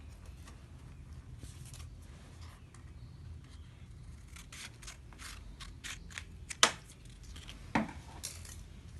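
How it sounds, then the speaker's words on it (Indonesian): Scissors snip through paper during a classroom fractions lesson in a series of quick, close, crisp cuts, with two sharper snaps near the end over a faint background hum. "Lalu kita gunting arsiran yang paling sedikit."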